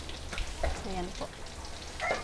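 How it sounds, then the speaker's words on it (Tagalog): Dried fish (tuyo) sizzles and crackles softly in a frying pan over a short stretch, with a voice briefly heard nearby. "So, nakapag-prito na po ako"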